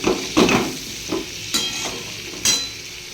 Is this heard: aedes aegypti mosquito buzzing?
no